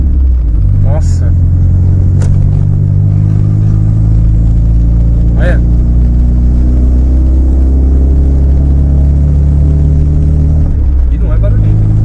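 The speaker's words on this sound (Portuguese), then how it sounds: "o ronco é muito gostoso do carro" A Volkswagen Golf MK3 engine rumbles deep and loud from inside the car while driving, a steady low drone with brief clicks, as occupants talk over it.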